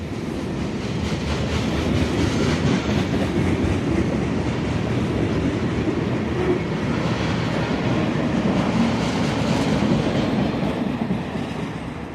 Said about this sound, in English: These two locomotives will pull R-177 to Orlando this afternoon.